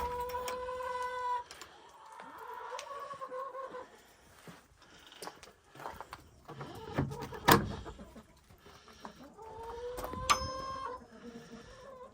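Chickens cluck inside a chicken house on a farm on a mild winter day, with several short, irregular bursts of calls at moderate volume, some closer than others.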